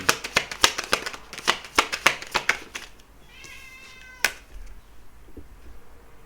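Tarot cards are shuffled in a quick run of crisp, rhythmic riffles lasting a few seconds, then it goes quiet apart from a cat's meow and one sharp tap.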